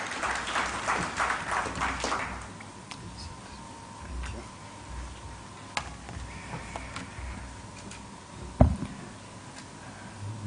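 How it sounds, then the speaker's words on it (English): An audience at a human rights summit claps to welcome a guest. The dense applause lasts about two and a half seconds, then quickly dies away into quiet room noise with a few scattered knocks and one sharp thump. "Let's give him a round of applause as he comes."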